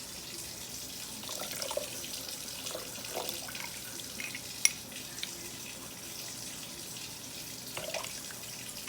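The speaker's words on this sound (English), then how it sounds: "now I'm going to go fill this with water until we have enough" Tap water running steadily into a container being filled for tea, a continuous soft splashing flow at close range with faint clinks, no voices.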